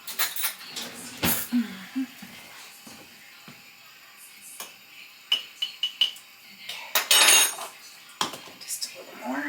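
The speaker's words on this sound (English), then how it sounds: "Let me grab a spoon." Cutlery and dishes clinking and clattering nearby as a spoon is grabbed in a home kitchen while canning ground venison, scattered sharp knocks and rattles at irregular intervals.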